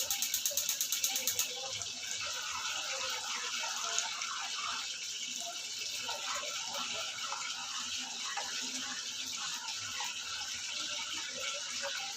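Water pours steadily from a tap into a pot of milk-based soup while cooking, a soft continuous gushing and trickling that runs throughout, moderately close and without speech.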